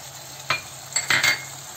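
Coriander powder and spice masala with ginger-garlic paste being roasted in a pan for dum aloo, a low sizzle under a few brief scraping stirs of a spoon against the pan.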